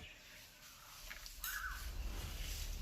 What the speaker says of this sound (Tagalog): Kasamang uwak pa yan.